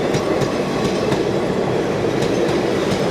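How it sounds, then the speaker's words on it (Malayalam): Shoranur–Thrissur passenger train rolling in, a loud close continuous rumble with rhythmic clickety-clack of wheels over rail joints. "ഷൊർണൂർ തൃശ്ശൂർ പാസഞ്ചറായിട്ട് കടന്നു വരികയാണ്"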